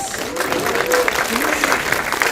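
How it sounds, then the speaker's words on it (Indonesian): A crowd at a film press conference applauds steadily and loudly, with voices and cheering mixed into the clapping throughout. "Pak Tony, Bu Sayu, saya ingin tepuk tangan yang luar biasa untuk Michelle."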